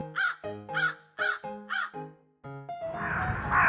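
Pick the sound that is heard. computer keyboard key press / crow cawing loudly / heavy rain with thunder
crow cawing loudly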